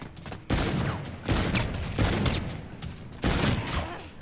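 Rapid bursts of gunfire in Infinite Warfare Zombies, several loud, dense volleys separated by brief pauses, each burst sustained for about half a second to a second.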